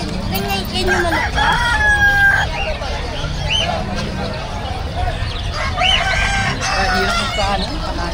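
Chickens at a pet market, held in cages, crow and cluck loudly and repeatedly, several birds overlapping amid a constant crowd babble with voices talking nearby.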